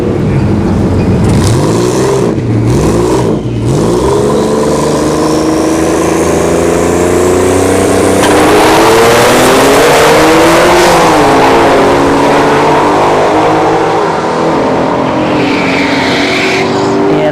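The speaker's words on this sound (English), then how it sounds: "The V6 Turbo goes 741 and 95 miles an hour and takes out the Shelby GT500 with the whole shot win" A V6 turbo car and a Shelby GT500 launch down a drag strip at a test-and-tune event, engines roaring loud and close, revving up through gear changes with rising pitch, then fading as they pull away down the track.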